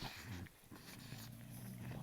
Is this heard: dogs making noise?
yes